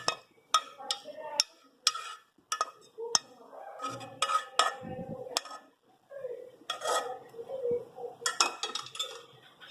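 Dishes and cutlery clink repeatedly in sharp, close bursts as talbina is served into a dish, with scraping and stirring between the clinks.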